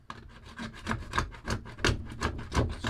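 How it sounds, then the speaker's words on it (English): A craft knife or scraper rasps thick, dried spray paint off painting equipment in about ten quick, close strokes, each a sharp gritty scrape in an uneven rhythm. "scrape most of this off"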